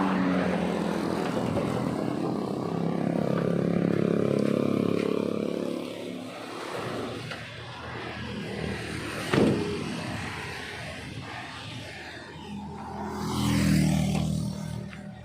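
Engine of a Daihatsu Gran Max pickup running at a steady idle, a continuous close droning rumble with a brief sharp knock partway through and a rising swell near the end.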